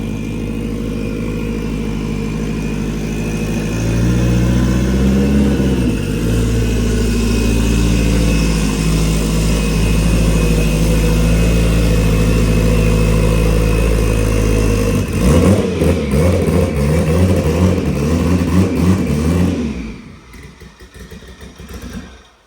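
A turbocharged Honda Civic engine making over 900 hp revs hard on a dyno, a loud sustained roar that climbs and falls in pitch through repeated pulls, then cuts off abruptly near the end.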